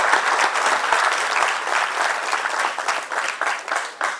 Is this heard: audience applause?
yes